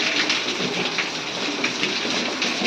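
Steady, dense rain hisses loudly and evenly throughout, with no voices.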